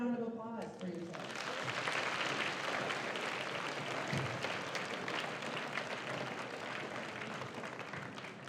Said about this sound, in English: So another round of applause for yourself.